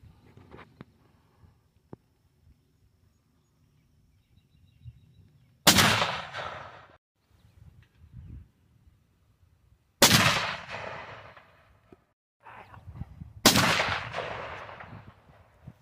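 Three sharp, loud gunshots from a .270 rifle crack out at irregular intervals outdoors, each blast trailing off in a brief echoing decay, with quiet rustling and faint handling noises between shots.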